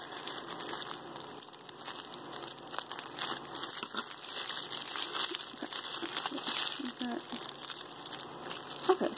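Packaging of a suturing training kit being cut and pulled open, a steady close crinkling and crackling of plastic wrap that runs throughout, with faint talking underneath.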